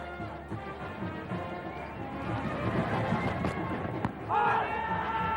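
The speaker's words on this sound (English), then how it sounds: "The crowd solidly behind the Sri Lankans" Crowd at a 1994 Singer World Series one-day cricket match between Pakistan and Sri Lanka in Colombo, a steady broad murmur throughout that swells slightly toward the end, with commentary-like voices over it.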